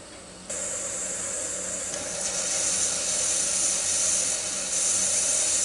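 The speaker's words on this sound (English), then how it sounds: "See a little steam coming around from the valve, little pop-up valve there" Steam hisses steadily from the pop-up pressure valve of an Instant Pot Duo Crisp cooking frozen chicken legs, a bright sustained hiss that jumps louder after half a second and swells again near the end, with no talking.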